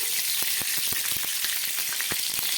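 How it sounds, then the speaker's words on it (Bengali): Oil crackles and sizzles steadily in a hot kadai, set up for cooking jackfruit, in a dense, close, continuous frying hiss with a few soft pops throughout. "এঁচড় রান্না করার জন্য একটা কড়াই বসিয়ে দিয়েছি, তাতে দিয়ে দিচ্ছি আমি তেল।"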